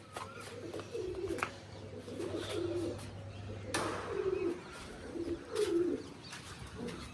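Pigeons coo in soft, low repeated phrases nearby, with occasional chirps and light rustling in the background.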